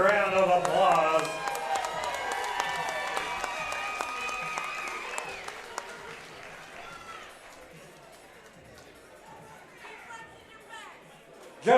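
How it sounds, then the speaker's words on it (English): An audience at an MMA event applauds the two fighters after the bout, steady clapping and crowd chatter that gradually fades, heard under an announcer's voice. "let's give both these fighters a big round of applause"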